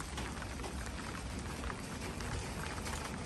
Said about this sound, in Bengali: একটু গুড়ি গুড়ি বৃষ্টি হচ্ছে